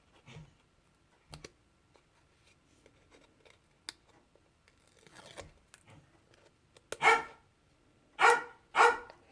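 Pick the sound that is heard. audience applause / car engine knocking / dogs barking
dogs barking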